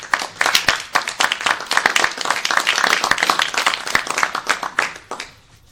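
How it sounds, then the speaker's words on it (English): A room of board members and staff at a meeting bursts into a sustained round of applause, dense overlapping hand claps that hold steady for several seconds before thinning out at the end. "I'd like to say congratulations with a round of applause"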